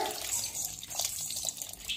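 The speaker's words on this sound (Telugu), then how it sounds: "చింతపులుసు పోసుకుందాం అండి." Tamarind water pours into a fish curry as it cooks, giving a steady, close splashing trickle that runs continuously for a couple of seconds, with no voices.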